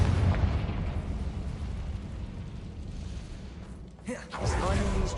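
Confringo fire spell explosions in the video game Hogwarts Legacy: a low rumbling blast that fades, then a sharp fresh burst and a heavy boom near the end, with a brief voice in between.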